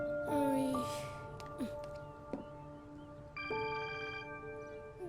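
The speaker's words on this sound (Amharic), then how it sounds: "ዳሪያ፣ ስልክሽ እኮ እየጠራ ነው" A mobile phone ringtone plays indoors, a melodic electronic tune in short repeated phrases with gaps between them, moderately quiet in the room.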